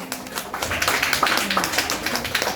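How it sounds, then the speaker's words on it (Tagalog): Congregation clapping in a church service, steady scattered handclaps throughout at moderate level, with faint voices mixed underneath. "Palakpak sa Panginoon."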